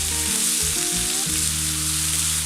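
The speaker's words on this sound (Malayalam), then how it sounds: "ഈ നാരങ്ങ ഇതിൽ കിടന്ന് നന്നായിട്ടൊന്ന് വഴന്ന് വരണം" Wild lemon pieces sauté with rock salt in a pan for pickle, giving a steady, close sizzle and crackle that runs throughout, with a faint low hum underneath and no voices.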